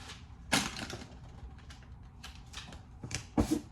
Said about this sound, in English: Press enter and it comes out of the printer over here